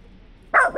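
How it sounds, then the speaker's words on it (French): A single close, sharp dog bark, a quick double yap that breaks in after a quiet moment in a home setting. "Il y a un chien."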